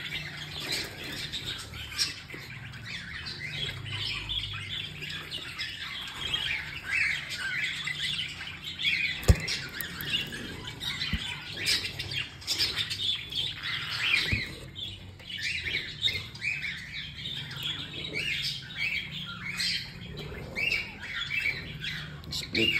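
Baby cockatiels squawk and chirp continuously up close, a dense, busy chorus of shrill calls with scattered louder squawks throughout.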